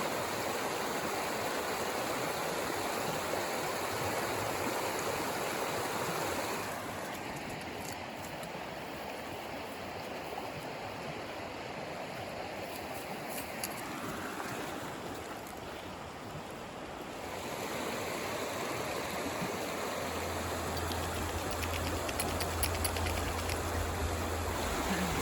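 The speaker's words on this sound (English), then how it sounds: "Something so peaceful about a river." A river in a mountain pass rushes in a steady, broad wash of water noise, easing slightly in the middle before swelling again, with no voices.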